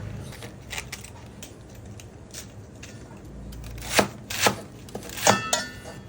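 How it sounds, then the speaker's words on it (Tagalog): A knife chops cabbage on a cutting board, starting with quiet strokes and ending in a few louder, distinct thuds near the end. "tanggalin ang gitnang part at hiwain sa medyo alanganing laki"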